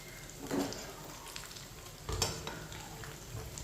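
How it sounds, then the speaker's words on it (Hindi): Chicken frying in a pan with a quiet sizzle, plus a couple of soft stirring scrapes and a clink of utensil against the pan, faint and close. "देखें चिकन हमारा दोनों साइडों से अच्छी तरह फ्राई हो चुका है"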